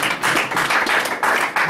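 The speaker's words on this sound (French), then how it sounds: "Acclamation pour le Seigneur." A church congregation claps and applauds for the Lord, a loud, dense burst of many hands clapping together in pulsing waves.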